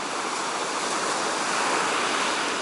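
Steady, broad roar of sea surf, a continuous wash of waves with no distinct breaks, moderately loud and unbroken throughout.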